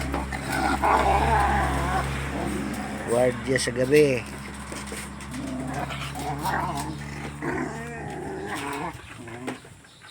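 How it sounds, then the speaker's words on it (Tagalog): A dog barks and growls in bursts close by on a farm, with people talking over it and a steady low rumble underneath. "sila yung pong aso namin dito."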